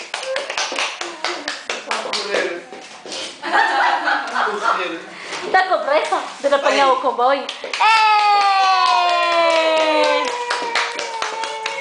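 A toddler claps his hands in a rapid, regular run of sharp claps near the microphone, while an adult speaks and the child babbles and chuckles, followed by a long sustained tonal sound.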